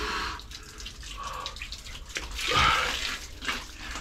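Water gushes from a bucket-style garden shower in one rushing pour that swells midway, splashing steadily at close range.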